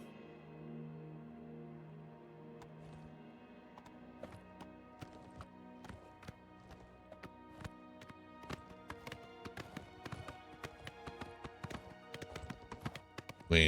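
Horse hooves clip-clop in the video game Oblivion Remastered as sharp, quick, evenly spaced taps that grow busier and louder, over a soft sustained musical background with no voices.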